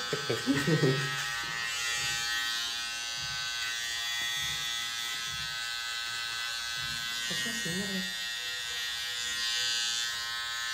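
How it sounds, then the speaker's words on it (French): An electric razor buzzes steadily and close through the whole stretch, a thin, constant hum, while people talk and laugh over it at moments. "il a un rasoir électrique"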